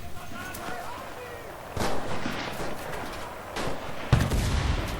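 Grenade explosion and gunfire in the shooter game Enlisted: scattered distant shots, then sharp loud blasts, the last a close, heavy boom.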